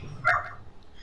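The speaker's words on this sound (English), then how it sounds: "Shut up, dog!" One short, fairly faint bark from a dog, heard alone against a quiet background.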